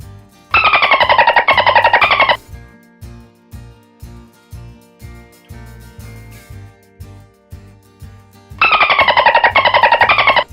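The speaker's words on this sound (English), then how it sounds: "Dolphin." Dolphin calls: two bursts of rapid, warbling high whistles, one at the start and one at the end, over a steady rhythmic music beat that runs throughout.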